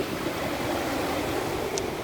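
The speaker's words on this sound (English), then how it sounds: "Listening to waves is soothing and calming for the mind" Steady ocean surf washes in a continuous broad rush at dawn, heard alone with no voices.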